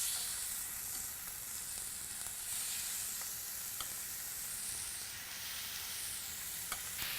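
Thin pork chops sizzle in olive oil in a skillet on medium-high heat, a loud, steady, close frying hiss with occasional small pops and crackles, and no talking.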